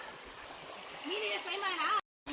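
Water from Abbi waterfall near Sakleshpura flows down into a small pool, a steady rushing wash in the background while a person talks over it. The sound cuts out briefly near the end.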